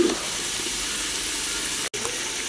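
Potatoes sizzle and fry in oil in a pan for aloo pulao, a steady crackling hiss close up that cuts out briefly near the end, with no talking.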